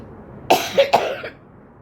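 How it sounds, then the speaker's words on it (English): A close, raspy cough in a few rapid bursts, loud against a quiet room, with nobody speaking. "I have such a terrible cough right now."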